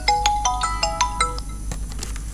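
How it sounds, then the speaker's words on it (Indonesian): A phone ringtone plays a quick, loud, repeating melodic pattern of bright tones at close range, heard alone over a low hum. "Sebentar ya, ada telepon."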